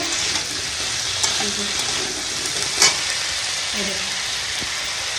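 Aloo posto cooking in a home kitchen pan: steady broadband frying sizzle runs throughout, with occasional scrapes and clinks of a spatula stirring, moderately close and without talk.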